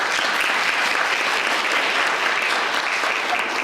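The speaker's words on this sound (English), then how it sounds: "That's applause if you can't tell." Sustained, even applause fills the room from a workforce summit conference audience, a thick, constant clatter of many hands at steady loudness with no voices on top.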